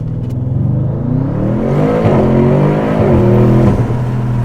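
A 1001-horsepower Audi RS7 launches hard from a standstill, its engine revving up loudly and climbing through the gears in a close, powerful, continuous roar.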